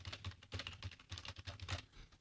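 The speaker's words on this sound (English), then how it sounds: "Look at that typing skill, man." Fast typing on a computer keyboard, a rapid irregular patter of key clicks with soft thumps, close but fairly quiet, and nobody talking.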